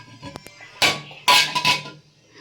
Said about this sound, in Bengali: আর এই যে আমি কড়াই বসিয়ে দিয়েছি,